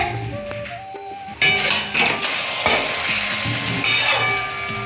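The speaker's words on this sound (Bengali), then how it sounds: "এই দেখো গরম গরম ডিম ভাজা হচ্ছে" Eggs fry in a pan with a bright, steady sizzle, broken by a few spatula scrapes and clinks of cookware close by.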